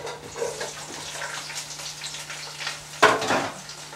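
Vegetables sautéing in a hot pan, a steady close sizzle with stirring and clatter, and a sharp louder burst of hissing about three seconds in, no talk.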